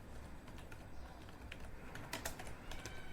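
Faint, scattered keystrokes on a computer keyboard as someone types into the Windows 11 search bar, irregular taps over a steady low background hiss.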